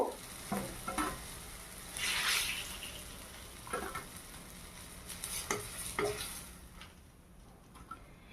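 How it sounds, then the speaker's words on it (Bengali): Jackfruit koftas frying in oil in a wok, a soft sizzle broken by several spatula scrapes and knocks, close and fairly quiet throughout. "একই সেম পদ্ধতিতে আবারও ভেজে নেব। চলুন এগুলো ভেজে নিই।"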